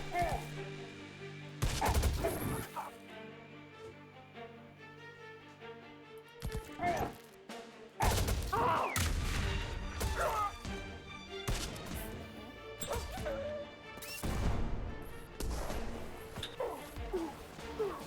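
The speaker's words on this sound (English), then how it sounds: "we still have that artillery shooting at me" Artillery in the game Enter The Chronosphere booms through a series of loud, sharp crashes and blasts spread across the stretch, over a busy bed of game music and effects.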